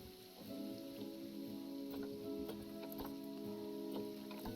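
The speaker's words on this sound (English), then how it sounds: "Oh, it's raining." Steady soft rainfall with scattered ticking drops in the Planet Zoo video game, a constant hiss alongside a low sustained in-game tone, with no talking.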